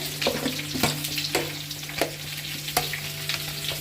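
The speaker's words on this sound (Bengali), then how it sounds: "এই যে আলু দমের জন্য আলু ভাজতে বসিয়ে দিয়েছি" Potatoes fry in a pan of hot oil for aloo dum in a home kitchen, a steady sizzle broken by sharp clinks and scrapes of a spatula stirring them.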